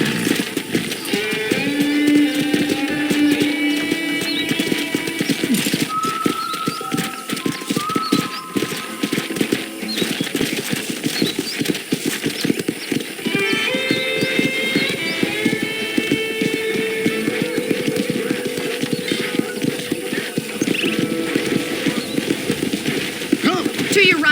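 Horse hooves clip-clopping at a steady walking pace in the Red Dead Redemption video game, a ranch tour with occasional whinnies, running continuously under voices speaking.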